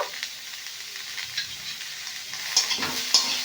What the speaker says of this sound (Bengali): এবার একটু বেশ ভালো করে নেড়ে ছেড়ে নিয়ে ঢাকা দিয়ে দিয়ে ফুলকপির পুরটা তৈরি করে নেব